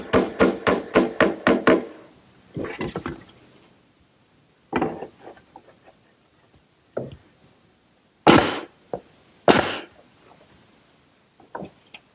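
Small wooden cleat being hammered onto the side of a wooden dove cote, starting with a quick run of about eight sharp, close taps, then scattered single knocks and a few louder bumps with quiet gaps between.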